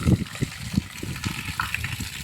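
Morning rain pours down, with water gushing and splashing close by in uneven bursts over a steady wet background, and no voices.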